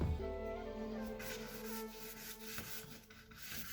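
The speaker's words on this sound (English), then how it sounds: "I'm just going to scrub it over the page." Scruffy brush scrubbed back and forth over paper with soft pastel, a steady close dry rubbing rasp lasting throughout, fairly quiet and alone.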